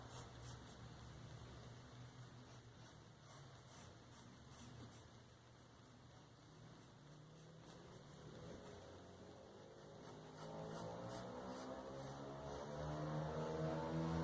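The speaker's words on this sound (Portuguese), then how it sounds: "moto subindo a rua" A motorcycle climbs a street outside, a faint engine drone that grows louder and rises over the last few seconds as it passes nearby.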